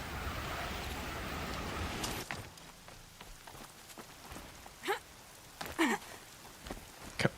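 Rain falling in Horizon Zero Dawn Remastered, a steady hiss of rainfall that thins after a couple of seconds, followed by scattered rustles and movement sounds.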